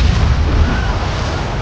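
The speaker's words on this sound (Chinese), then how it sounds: "随着一阵剧烈爆炸" A pumpkin bomb detonates in the Spider-Man 3 film as one loud, dense, sustained blast with a deep rumbling body that fills the whole moment.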